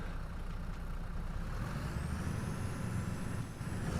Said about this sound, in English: It's a little bit loud, this tractor actually. The exhaust is pretty wild on it